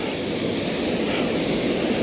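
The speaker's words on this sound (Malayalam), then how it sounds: "ഇവിടുന്ന് അങ്ങോട്ടാണ് കനാലിലേക്ക് വെള്ളം പോകുന്നത്" Water pours from a dam into a canal at the barapole dam solar project, a loud, steady, dense rush of flowing water that fills the whole stretch with no pauses.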